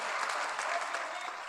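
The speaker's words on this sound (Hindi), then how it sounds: "तालियां बजाओ" Dense audience applause at a live youth talk event, a steady wash of many hands clapping at even loudness throughout a brief burst, with no distinct voices.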